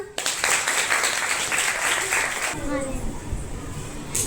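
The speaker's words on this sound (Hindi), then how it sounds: "बजाएं तालियां।" Children in a class clap loudly together for a few seconds. The applause then fades out and the teacher's voice continues alone.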